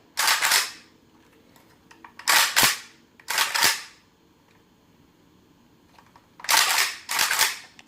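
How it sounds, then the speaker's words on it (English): Bolt of a semi-automatic SAR rifle worked by hand, producing five sharp metallic clacks spaced over several seconds, the last two close together, loud and near with no talk. "One of the first things I always do when I pick up a semi-automatic rifle is work the bolt"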